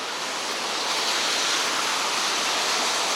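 Rain falling on a city street on a wet day in Elmhurst, Queens, New York, heard as a steady, loud broadband hiss with no talk.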